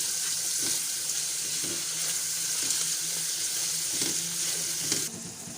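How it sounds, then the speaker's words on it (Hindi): Onions for chicken Manchurian fry in a pan with a steady, close sizzle, punctuated by several soft knocks and stirs of a spoon. "इसको भी 2 से 3 मिनट हम फ्राई करेंगे"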